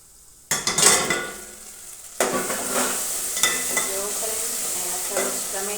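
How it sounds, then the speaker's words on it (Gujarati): Tomatoes, fenugreek and green chillies sauté in a pan on a home stove, giving a steady close sizzle with stirring scrapes and occasional utensil clinks, beginning with a sharp burst of frying as the ingredients meet the hot oil. "ટામેટાં અને મરચાંનું સરસ સંતળાઈ ગયું છે"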